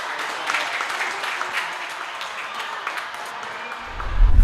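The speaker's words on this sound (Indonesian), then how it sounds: "Boleh tepuk tangan buat Pak Ismail." A studio audience applauds for Pak Ismail as he is called on at a football talk show, a steady round of clapping with a few louder claps, ending with a low bump near the close.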